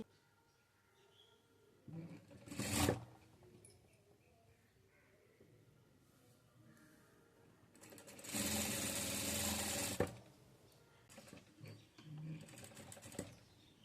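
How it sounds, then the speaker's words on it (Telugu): A sewing machine stitches around a blouse back neck in short bursts: a brief run, a pause, a longer steady whir of about two seconds, then another short burst, each close and clear, with quiet gaps between. "దీని మీదకి వెళ్ళి ఇలా కుట్టు వేసేసుకోవాలి"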